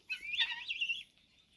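Birds chirp in a quick run of bright, high calls at a cow shelter, lasting about a second and then fading to quiet.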